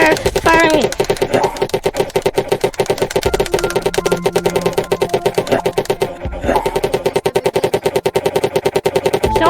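Rapid gunfire while shooting zombies in the 3D video game Scared Cube, a dense, loud, continuous rattle of shots with a short pause midway and background game music.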